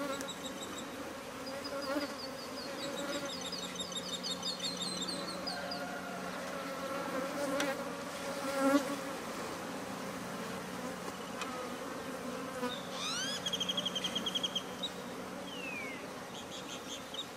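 Bees buzz and hum continuously around a huge honeycomb during a bee rescue, individual insects swelling louder as they pass near, with faint bird chirps at times.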